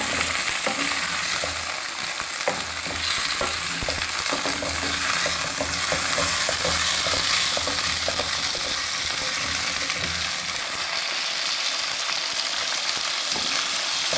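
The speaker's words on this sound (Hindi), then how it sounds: "इनको मैं थोड़ा सा फ्राई कर लूँगी" Half a kilo of large-cut potato pieces frying in a pan, a loud continuous sizzle with crackling spatters and repeated scraping and stirring strokes throughout.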